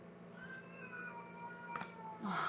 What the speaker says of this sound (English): So I just heard with that cat fight breaking out